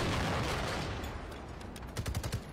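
Video game gunfire in an online battle, dense booming bursts that roll on continuously, then a few sharper separate shots toward the end, loud and alone with no talking.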